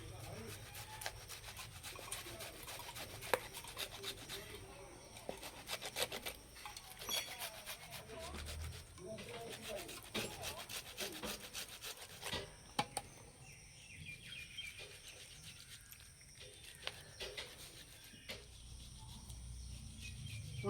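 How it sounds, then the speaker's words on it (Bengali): Peeled mangoes are rubbed over a metal grater in quick, repeated rasping strokes, close and fairly faint, a steady scraping rhythm with insect chirping faintly behind. "ছাড়ানো আমগুলো একটু ঘষে নেব।"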